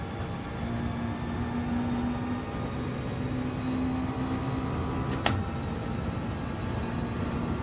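McLaren car engine droning in Gran Turismo 7, a steady, even hum holding at moderate loudness with a faint tone riding over it and one short sharp click partway through, no voices.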